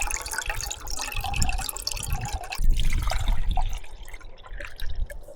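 Water pours from a container into a camping pot to cook mashed potato, a close, gurgling splash with a brief pause midway, outdoors on a solo motorcycle camping trip.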